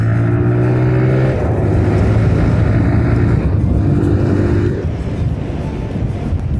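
Motorcycle ridden along roads in Himachal: a loud, continuous engine drone mixed with rushing wind noise, close up, with the pitch shifting as the bike changes speed and easing slightly near the end.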